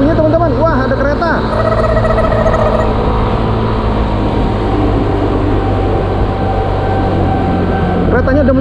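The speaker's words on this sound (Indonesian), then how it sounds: "Wah, ada kereta." Commuter train rumbling past a level crossing in Jakarta, a steady loud roar with rail and wheel noise filling the whole stretch, heard from a motorbike waiting nearby, with faint voices over it.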